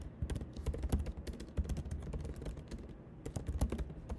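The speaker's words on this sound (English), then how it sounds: "I'll just type that one more time again" Typing on a computer keyboard produces a close, steady patter of quick key clicks that runs continuously, with no voices.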